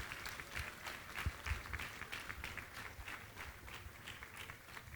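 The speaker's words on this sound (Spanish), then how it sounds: "Dele un fuerte aplauso y agradézcale por esa paternidad." An audience applauds at a church gathering, with steady clapping from a crowd heard at a modest distance for several seconds and no speech over it.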